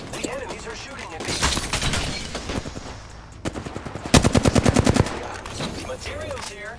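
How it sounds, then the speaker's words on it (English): Enemies firing guns at the player in a video game round, rapid machine-gun bursts and volleys of gunshots rattling loudly in several clusters, with a voice speaking over parts of it. "The enemies are shooting at me."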